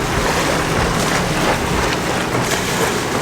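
Steady, loud wash of ocean waves surging and breaking on a beach, a continuous broadband roar with gusty wind mixed in and no voices.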